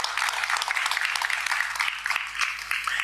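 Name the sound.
audience applause for Indonesia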